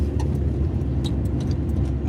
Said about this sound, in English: roads are rough. Makes my car sound like a rattle trap,